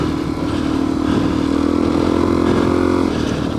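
Dirt bike engine held on the throttle while riding through sand in New Mexico, a loud continuous close-up drone that stays steady throughout with no break.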